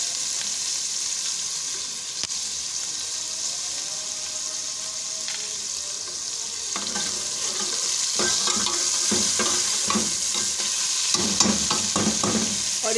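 Garlic and garam masala frying for beef pulao fill the clip with a continuous loud sizzle, and stirring scrapes and clinks pick up in the second half, with no voices.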